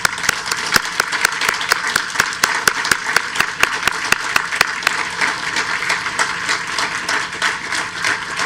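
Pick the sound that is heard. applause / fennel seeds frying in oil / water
applause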